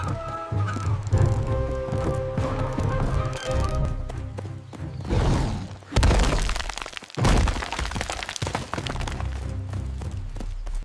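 An old wooden bridge shatters under a charging wolf's weight, a loud splintering crash with heavy thuds and debris breaking apart amid a dense, dramatic music-like wash, with sharp bursts near 6 and 7 seconds.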